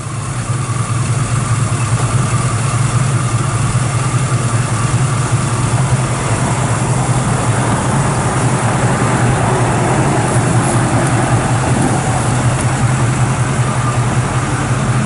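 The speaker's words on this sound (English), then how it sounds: "Fires right up. Good running little 383." A 1954 Ford F100 short-box pickup with a 383 engine and dual exhaust idles steadily, a constant low, rumbling drone heard close and loud throughout with no talking.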